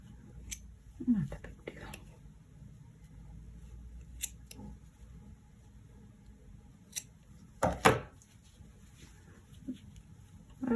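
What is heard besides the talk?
scissors cutting crochet yarn end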